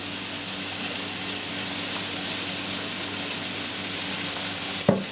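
Chicken breast fillet pieces and mushrooms frying in oil in a pan, a steady dense sizzle running throughout at an even level, with a brief clack near the end.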